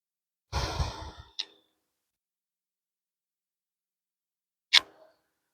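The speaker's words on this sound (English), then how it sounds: "Let's start with tiger breathing first." A strong exhaled breath during a yoga tiger-breathing stretch, followed by a short sharp intake, then silence and another brief sharp breath near the end.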